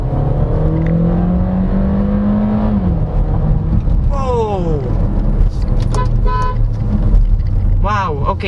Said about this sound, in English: look, I'll just floor it now. Right, it kicks down.